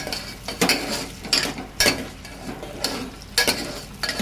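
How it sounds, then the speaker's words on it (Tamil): Large onions and curry leaves sautéing in hot oil for chicken kulambu, a bright continuous sizzle broken by several loud spatula scrapes and stirs against the pan, close up, no voices. "இப்போ நம்ம பெரிய வெங்காயமும் கருவேப்பிலையும் ஆட் பண்ணிக்கலாம் ஃப்ரெண்ட்ஸ். ஃப்ரெண்ட்ஸ், இது நல்லா வணக்க விடணும்"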